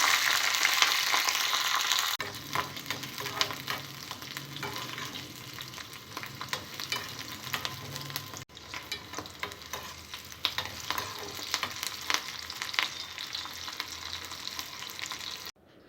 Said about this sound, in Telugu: ఆయిల్ వేడిన తర్వాత పచ్చిమిరపకాయలని ఫ్రై చేసుకోవాలి